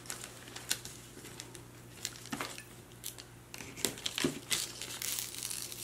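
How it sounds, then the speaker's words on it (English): Tape is peeled back from tissue paper in slow close crinkly rustles and small tearing crackles, faint and irregular over a low steady background hum. "But normally what I do is just simply peel the tape back."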